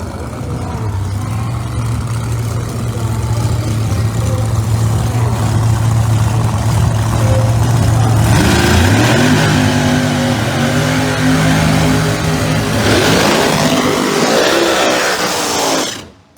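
Screw-blown Chevrolet Corvette pro mod drag car at a Northeast Outlaw ProMod event, its loud engine idling with a steady low drone, then rising in pitch as it revs, loud and close throughout.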